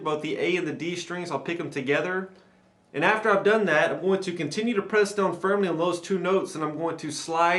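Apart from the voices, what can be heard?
No everyday noise stands out behind the speech.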